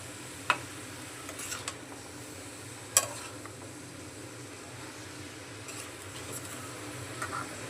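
Vegetables with salt, turmeric and coriander powder being stirred and sautéed in a pan for a Bengali vegetarian curry, with a low steady sizzle, a faint fan-like hum and occasional sharp spatula knocks.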